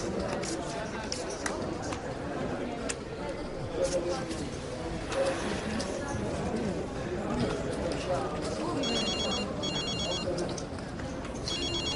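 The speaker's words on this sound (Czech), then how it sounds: "Telefon." Telephone ringing in a noisy room, repeated electronic ring bursts near the end over busy background chatter and clatter, with people talking throughout.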